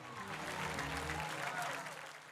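Church congregation applauding during an energetic sermon, a steady wash of many hands clapping with some crowd noise mixed in throughout.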